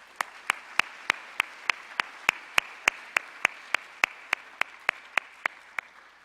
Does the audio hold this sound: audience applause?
yes